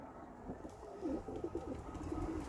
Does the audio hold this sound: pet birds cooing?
yes